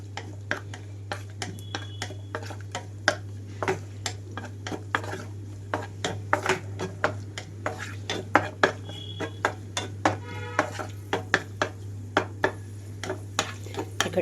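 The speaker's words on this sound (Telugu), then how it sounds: "ఇక్కడ జీడిపప్పు మీడియం ఫ్లేమ్లో ఉంచి వేయించుకుంటున్నాను." Cashews are fried in oil over a medium flame, with a low steady hum underneath. A spoon scrapes and clinks against the pan again and again in an irregular rhythm.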